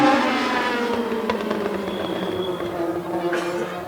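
Race car engines at a dirt track heat race, led by a 1934 coupe, rising into a loud sustained buzzing drone as the field takes off, with a high rasp and a few sharp pops.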